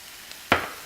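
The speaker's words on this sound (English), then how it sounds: "Next, I'm going to go ahead and add the 1 cup of snap peas" Snap peas drop into a hot stir-fry pan for General Tso chicken, setting off a sudden loud burst of sizzling that fades into a steady hiss. No one speaks.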